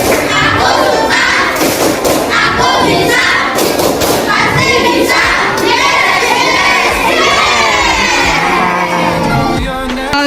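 Classroom children in Indonesia doing a rhythmic clapping chant, loud group claps and thumps in a patterned beat mixed with shouted children's voices and chanting throughout.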